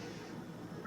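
A house cat meows once, a short faint call rising out of steady indoor room noise at the very end.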